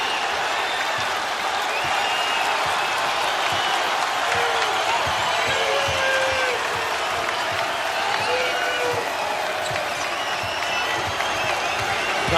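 Basketball crowd roaring at the Rock during a Louisville versus Seton Hall NCAA game, a dense, sustained wall of cheering and applause with a commentator's voice faintly underneath.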